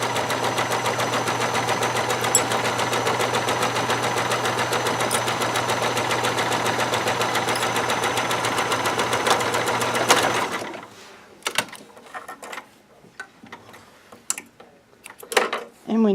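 A sewing machine runs steadily for about ten seconds, stitching the second pass of a French seam at a quarter inch, a continuous close mechanical whir that then stops, followed by quiet handling noises.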